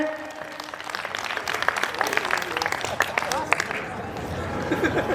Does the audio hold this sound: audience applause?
yes